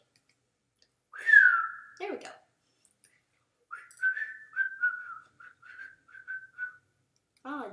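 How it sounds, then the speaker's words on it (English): Someone whistles a rising note, then a string of short wavering whistled notes with pauses, and a brief spoken remark comes in between. "I think I've gotten bad at whistling"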